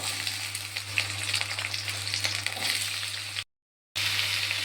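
Cut potatoes fry alongside bitter gourd in a wok, giving a dense continuous sizzle with faint stirring scrapes, a brief silent gap, then the frying resumes.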